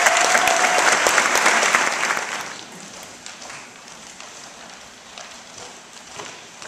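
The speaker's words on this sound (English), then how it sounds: "please hold your applause until I name them all" An audience at a school awards night bursts into loud applause that lasts a couple of seconds, then thins into scattered clapping and quieter room noise.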